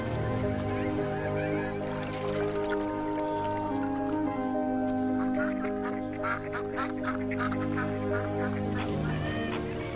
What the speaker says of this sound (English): Flocks of tundra swans arrive from the Arctic, just partway through their 10-week journey to the eastern seaboard.